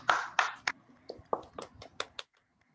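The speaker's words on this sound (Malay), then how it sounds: "Tepukan kepada Ichigo dan juga Ziana Zain." A small group gives a short round of applause for two participants at a communication course: about a dozen scattered claps over two seconds, close and fairly soft, with no one talking.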